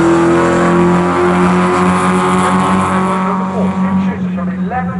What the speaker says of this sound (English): the next car coming across the line now in 6th place